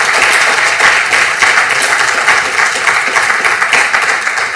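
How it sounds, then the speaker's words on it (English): Audience at an accounting alumni conference and CPD event at ATU Sligo giving a warm round of applause after a talk, a loud, sustained burst of many hands clapping with no speech over it. "Give her a warm round of applause."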